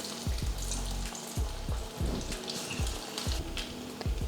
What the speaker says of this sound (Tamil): இப்போ வடை பொரிச்சு எடுத்தாச்சு.